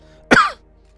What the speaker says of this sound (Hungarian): Hülye köhögés.